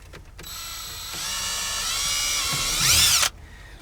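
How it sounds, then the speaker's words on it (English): A power drill whirs steadily for a few seconds drilling a small hole, its pitch rising and straining as it bites into material near the end, then stops abruptly. "Let's drill a small hole."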